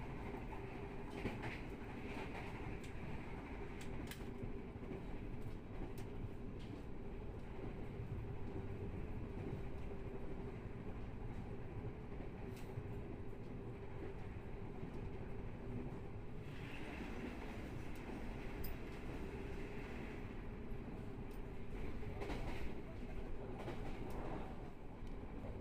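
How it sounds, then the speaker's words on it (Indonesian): KA Blambangan Express passenger train passing straight through Pringkasap station in Subang, a steady loud rumble of rolling wagons with faint clickety-clack and occasional rail squeal throughout. "KA Blambangan Express melintas langsung stasiun Pringkasap Kabupaten Subang."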